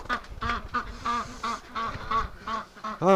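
Several ducks quack repeatedly in rhythmic, harmonic bursts on a frigid winter morning at a barn, the calls fairly close and steady, with a louder quack at the end.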